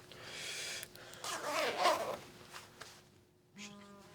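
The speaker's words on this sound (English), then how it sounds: "Go ahead and zip it back up." An Alpinestars Tech-Air 5 Plasma airbag vest is zipped up, giving a clear, close zipper pull in the middle of the clip, followed by a short electronic tone near the end.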